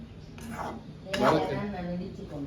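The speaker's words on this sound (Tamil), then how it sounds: "ஏலக்காய் இடித்து கொண்டிருக்கிறான்" Cardamom pods pounded during home cooking gives two sharp knocks among soft kitchen clatter, with a voice talking underneath.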